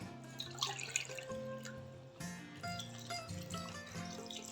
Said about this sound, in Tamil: இதில் கூட நம்ம வாட்டர் ஆட் பண்ணி சேர்த்துக்கலாம்